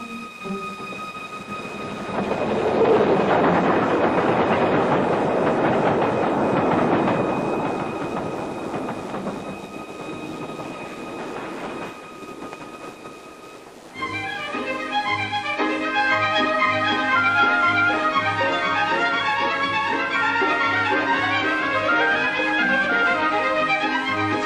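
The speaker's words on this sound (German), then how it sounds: "Warten Sie, der Zug ist gleich vorbei." A train passes by, first a broad rumbling roar that swells and fades, then a steady rhythmic rattling of wheels and wagons, heard alone in an old film recording.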